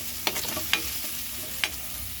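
Mung beans cooking and being stirred in a pot, a steady sizzling hiss with a few sharp clinks from the utensil, close and loud, with no talking.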